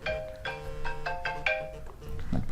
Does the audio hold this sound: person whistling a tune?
no